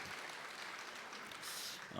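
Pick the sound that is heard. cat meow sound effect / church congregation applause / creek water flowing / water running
church congregation applause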